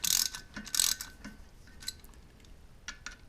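Small metal clicks and ratcheting ticks from a 4mm Allen key loosening clamping screws on the gripper shaft of a Ryobi offset press, loudest in two early bursts and then fading to sparse, faint taps.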